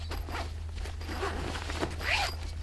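A zipper on an Oztent RS-1 canvas swag is pulled along its track in a few quick raspy strokes, close and fairly quiet over a steady low hum.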